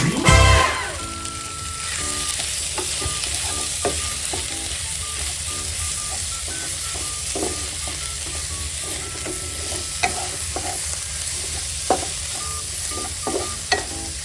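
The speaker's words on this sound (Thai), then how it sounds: "หมูบดลงไปตามใจชอบ" Minced pork stir-fried for a pickled bamboo shoot dish: a loud burst as it hits the hot pan, then continuous sizzling with scattered spatula scrapes and taps, close up and without talk.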